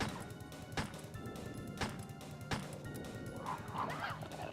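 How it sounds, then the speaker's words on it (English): Dogs attack in Resident Evil Director's Cut with a few sharp barks and thuds, set over a steady game soundtrack, heard at moderate volume without voices. "The dogs pop out."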